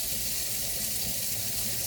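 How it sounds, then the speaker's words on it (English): Hot water runs steadily from a kitchen tap during dinner cooking, a close, even rushing hiss with no break and no voices over it. "I got hot water running"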